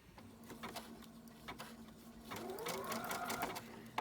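A sewing machine stitching in a home sewing lesson, its rapid steady mechanical whir and patter running throughout and rising in pitch as it picks up speed, quiet and near, with no voice.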